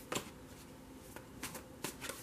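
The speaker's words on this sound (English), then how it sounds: "You saw me shuffle these cards." Tarot cards are shuffled quietly in a few soft, brisk riffling bursts spaced irregularly, close up and faint, with no talking over them.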